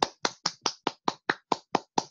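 Ten even, crisp hand claps in a steady quick rhythm, close and clear with no other sound, used as a meeting timer signal.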